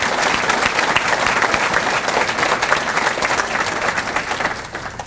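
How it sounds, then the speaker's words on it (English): An audience at a university scholar-athlete banquet claps steadily for student athletes, a dense, sustained applause filling the hall with no voices over it and tapering slightly at the end. "Will you please give these student athletes a round of applause?"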